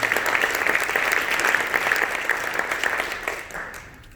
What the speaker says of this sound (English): Give the phonies a round of applause